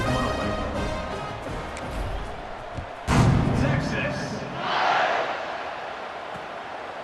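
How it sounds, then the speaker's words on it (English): A stadium crowd roars in EA Sports College Football 26 as the teams line up for the kickoff, with a broadband wall of cheering that swells sharply near the middle, while a commentator talks over it throughout. "this crowd now ready to get behind them"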